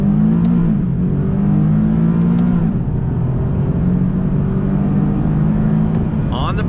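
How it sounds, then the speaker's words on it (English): 2019 Nissan 370Z Roadster, a naturally aspirated two-seat convertible, pulling away from a dead stop under throttle: a steady loud engine drone building in pitch, with a higher rising tone near the end. "An acceleration test from a dead stop on throttle."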